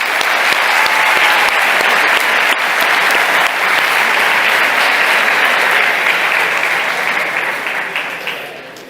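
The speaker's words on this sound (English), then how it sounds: "Let's give a big round of applause for them." A hackathon closing-ceremony audience applauds the judges with loud, sustained clapping from a large crowd, holding steady for several seconds before tapering off at the end.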